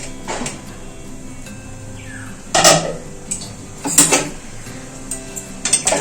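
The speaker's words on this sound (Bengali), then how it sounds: "ডালটা এবার ঢাকা দিয়ে দেবো" A metal lid is set onto a pot of boiling mung dal in a home kitchen, with a few sharp clinks and clatters of cookware heard close by and no talking.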